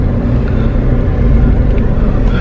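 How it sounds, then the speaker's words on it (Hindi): Car driving away on a dark road at night in India, a loud continuous engine and road rumble holding steady throughout, close and unbroken. "गई वो गाड़ी गई।"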